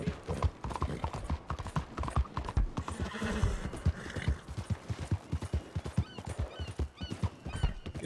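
In Red Dead Redemption 2, a horse's hooves clip-clop in a steady, busy rhythm close by, with whinnies and a few mechanical clanks mixed in.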